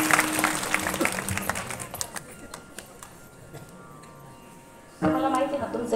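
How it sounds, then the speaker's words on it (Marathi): A women's group at a rural gathering claps, a burst of scattered hand clapping that thins and fades out, then a voice starts speaking over the room. "महिला मंडळ टाळी वाजवा यांच्यासाठी."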